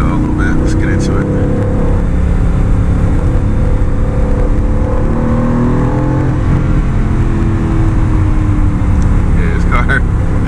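Aston Martin Vantage driving and accelerating, its engine a loud steady drone with rising revs throughout, close-up from inside the car.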